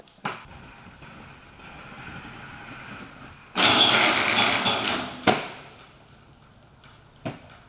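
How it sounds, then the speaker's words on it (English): A skateboard grinding along a chain: sharp thuds of board contact, then a loud scraping, rattling grind of about two seconds, followed by a few more knocks and a final tap, outdoors with no talking. "You did your second grind on a chain."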